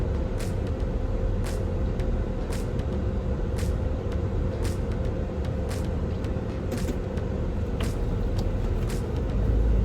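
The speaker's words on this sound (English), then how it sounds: "y'all see me pulling out now. Don't y'all come walking behind this car." A car pulls out of a parking lot, its steady low engine and road rumble continuous throughout, with a faint rhythmic clicking repeating above it.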